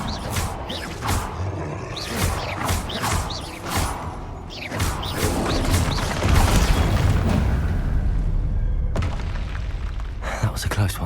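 The Confringo fire spell bursts in Hogwarts Legacy with a series of deep booms and whooshing blasts, layered over rumbling game effects and vocal sounds, loud throughout.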